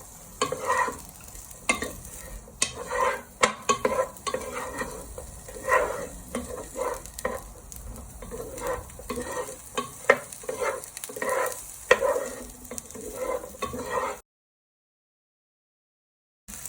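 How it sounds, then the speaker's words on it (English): Chorizo and prawns fry in oil in a pan for a prawn and chorizo risotto while a wooden spoon stirs them, giving a steady close sizzle broken by repeated scraping and clacking strokes, with no talk before a sudden stop. "Give them a little stir with your wooden spoon."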